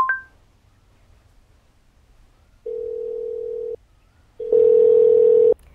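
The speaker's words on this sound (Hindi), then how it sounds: "एसी कंपनी में फोन लगाओ।" A telephone dial tone hums steadily, broken by a short gap, then sounds again louder and longer before cutting off; a brief beep opens the clip.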